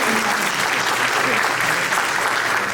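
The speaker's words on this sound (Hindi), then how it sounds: "जोरदार तालियां बजाइए" Dense, steady applause from an audience at an education department appointment letter distribution ceremony in Chandigarh, filling the hall without a break.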